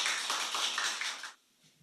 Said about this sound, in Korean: 또 우리 심우태 선교사님을 박수로 환영하겠습니다